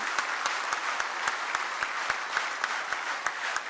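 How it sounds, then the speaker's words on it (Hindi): Audience at a formal stage event in India applauding steadily, with distinct individual claps standing out at fairly regular intervals over a softer bed of clapping, moderately quiet and with no speech. "मैं चाहूंगी एक बार तालियों के प्रणाम आप सब मंच तक पहुंचाएं।"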